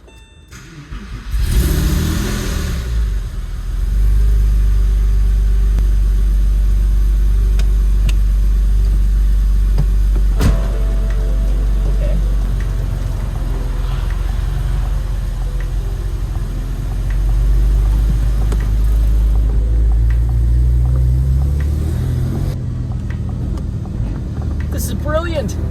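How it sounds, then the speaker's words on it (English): A TECHART Porsche 996 that has sat unused for a long time cranks, fires and rumbles to life, with loud deep revs easing into a rough idle while people talk nearby. "Definitely sounds like a car that hasn't run in a long time."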